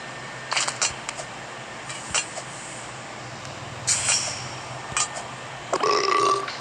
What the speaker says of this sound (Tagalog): O, diba nag-burp na?